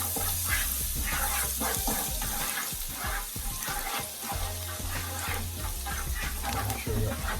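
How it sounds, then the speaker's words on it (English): Chopped garlic frying in oil for a fish curry, crackling and sizzling while being stirred, with scraping clicks and a watery bubbling underneath, close and moderately loud. "you're going to go in with your chopped garlic. Guys. Just stir those out"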